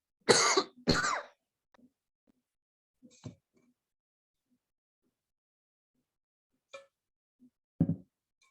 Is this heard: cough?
yes